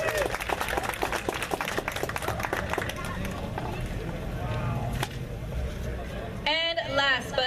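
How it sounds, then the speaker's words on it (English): An audience at a car and bike show pin-up contest claps for a contestant, a moderate round of applause under a host's voice that fades toward the end before the host speaks again. "Round of applause to a doll named Lady M."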